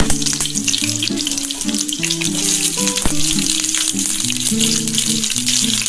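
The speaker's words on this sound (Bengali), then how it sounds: "এই সাদা তেলটা একটু গরম হয়ে গেলে তারপরে আমি এই যে কেটে রাখা সবজিগুলো আমি ভেজে নিচ্ছি।" Cauliflower fries in hot white oil for vegetable fried rice, a continuous bright sizzle under a melodic background music track.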